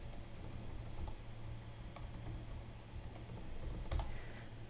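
A password is typed on a computer keyboard in a quiet room: a run of close, crisp key taps at an uneven pace over a faint low hum, with no one speaking.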